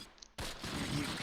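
Gunfire in the war game Close Combat Last Stand Arnhem: a brief quiet moment, then a sudden dense burst of shots that carries on loud and rough to the end.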